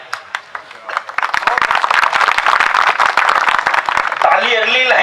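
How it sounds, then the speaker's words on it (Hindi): An audience at a Shakkargarh poetry gathering bursts into dense, loud applause that rises and runs for a few seconds before a voice comes in over it. "ताली अगली लाइन पे बजाना, पहले ही बजा दी तुमने।"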